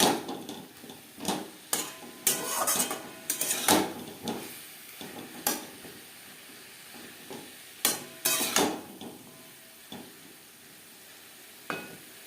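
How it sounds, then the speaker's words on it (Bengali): Cauliflower florets stirred into fried spices in a pan over low to medium flame, with repeated loud scraping and clattering strokes of the spoon over a low sizzle, close by and without talk. "মশলার সাথে ফুলকপি বেশ ভালো করে মিক্সড করে দেবো"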